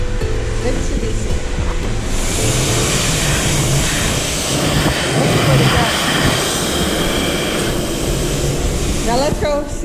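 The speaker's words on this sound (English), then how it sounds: "Where's the hand dryer?" A Mitsubishi hand dryer in a public restroom blows a loud, steady airy roar for the full duration, with voices talking over it.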